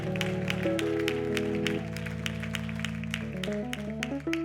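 A church congregation claps in a steady, dense patter over sustained organ or keyboard chords, the applause fairly loud and lasting throughout.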